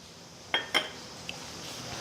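A spoon clinks twice against a bowl while oil is mixed into wheat and gram flour for papad dough, two sharp close taps followed by a faint third tick over quiet room tone.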